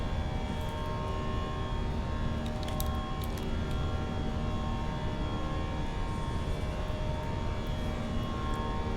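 Steady drone of airliner engines winding down as the throttle is reduced in Microsoft Flight Simulator 2024, a sustained tonal hum with layered whine, constant and moderately loud throughout.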